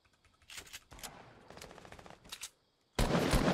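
Several shooters fire at once in Fortnite: bursts of rapid automatic gunfire overlap through the first seconds, a short lull follows, then a dense, loud barrage erupts near the end.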